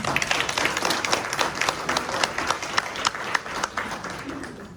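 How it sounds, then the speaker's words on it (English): Audience claps at a volunteer recognition event, a moderate round of applause with distinct individual hand claps standing out in an uneven rhythm, gradually thinning. "Let's give them another round of applause."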